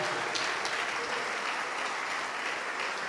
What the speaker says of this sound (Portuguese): vamos aplaudir mais ao Senhor Jesus